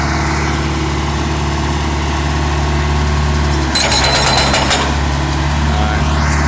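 A Caterpillar 416B backhoe engine idles loudly and steadily up close, with a burst of hydraulic strain and clattering partway through before the steady drone resumes.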